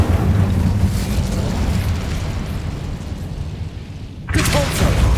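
A fire spell cast in the video game Hogwarts Legacy gives a sustained loud roaring, crackling blast lasting several seconds. It drops off briefly near the end before another burst kicks in.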